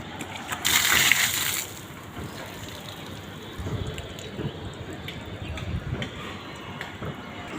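Water is scooped and splashed out of a household water tank during cleaning, with a brief louder splash early on followed by softer intermittent sloshing and scraping, no talking.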